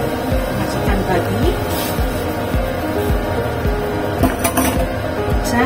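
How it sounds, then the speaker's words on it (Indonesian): Pork, ginger and broth going into a pot of boiling water for a Hong Kong-style home salted egg soup, heard as close clinks, knocks and clatter of pot and utensils under a person talking. "Oke, ini airnya udah mendidih. Aku masukkan semua bahannya ya."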